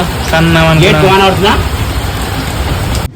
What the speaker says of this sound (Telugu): వర్షం మంచిగా పడుతున్నది